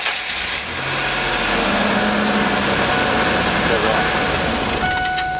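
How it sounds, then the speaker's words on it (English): A car engine with a misfire turns over and settles into a steady idle, loud and close, with a constant hum throughout, with a noid light on the injector. "Start the engine."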